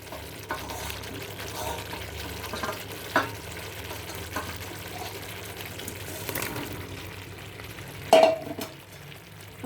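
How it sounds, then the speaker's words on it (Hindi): Half-boiled, fried taro root being stirred gently in a frying pan, a soft sizzle with scraping and stirring strokes and an occasional clink of the spoon against the pan, close and fairly quiet. "अरबी डालने के बाद इसको बहुत आराम से आपको चलाना होगा"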